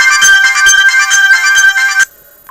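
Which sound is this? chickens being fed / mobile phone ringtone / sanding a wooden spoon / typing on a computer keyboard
mobile phone ringtone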